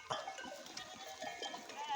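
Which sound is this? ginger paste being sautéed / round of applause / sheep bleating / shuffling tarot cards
sheep bleating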